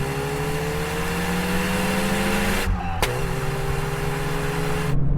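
Volkswagen Golf GTI cars accelerating in a rolling second-gear drag race from 50 km/h, engines droning loudly with rising whine and a sharp gear-change break midway, no talk.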